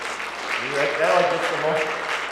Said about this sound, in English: Toilets get the biggest applause of the whole night